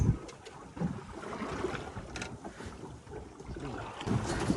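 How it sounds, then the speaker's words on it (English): Gusty wind buffets the microphone on a rocking boat over low, sloshing water and creaking movement, a continuous blustery rumble rising and falling without any talking. "It's a bit windy today, and the boat is actually rocking."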